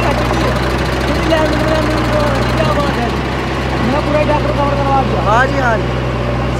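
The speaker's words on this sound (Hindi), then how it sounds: "भाई साहब का ट्रैक्टर है 485 HD" A 485 HD tractor idles nearby, a steady low engine rumble running throughout while someone talks over it.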